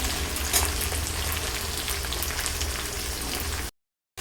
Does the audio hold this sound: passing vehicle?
no